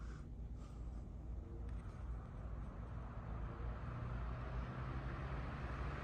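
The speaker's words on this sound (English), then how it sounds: "So let's go ahead and turn it on. It runs really nice. I really like this fan." An Emerson 77646 electric fan runs with a steady, low whooshing drone and faint motor hum, close and unchanging throughout.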